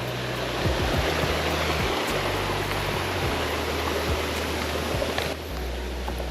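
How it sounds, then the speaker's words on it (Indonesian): A small, clear stream flowing along a mountain hiking trail, a continuous close rush of water with steady broadband splashing and no talk. "Ada sungai kecil, airnya bening banget."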